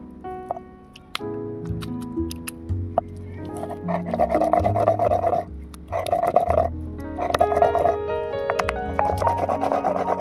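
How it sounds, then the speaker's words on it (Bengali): Dry red chilies, green chilies and tomato are ground into a paste for a smoky handi chicken, giving repeated bursts of rough, rasping grinding strokes over background music. "এবারে বেটে নেব শুকনো লঙ্কা, কাঁচা লঙ্কা, টমেটো।"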